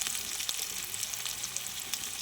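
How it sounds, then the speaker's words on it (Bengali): Onions and small chicken pieces frying in a pan, a steady close sizzle with faint stirring and crackle running evenly throughout, no voices. "তো পেঁয়াজটা হালকা ভাজা ভাজা হয়েছে তার মধ্যে চিকেনগুলোও দিয়ে নেব"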